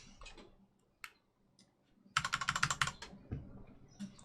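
Short bursts of keystrokes on a computer keyboard, a few isolated taps followed by a quick, dense run of clicking near the microphone, then scattered single presses, with no talk.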